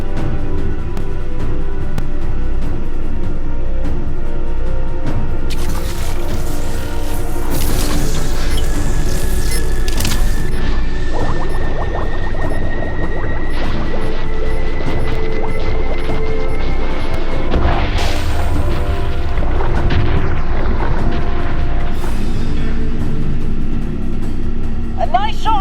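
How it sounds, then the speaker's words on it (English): Kinesium charges go off underwater against a giant squid in the VR game I Expect You To Die 3, giving a string of crashing blasts and rumbling impacts through a busy game soundscape, with a voice talking over parts of it. "that explosion should do the trick"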